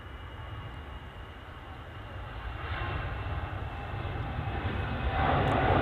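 A small EasyJet airliner arrives at Manchester Airport, its engine noise swelling gradually from a moderate hum to a louder roar as it approaches.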